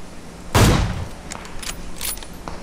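A single loud, close sniper shot from an AWM rifle in the video game PUBG, a sharp broadband blast that decays quickly, followed by faint clicks and game sounds.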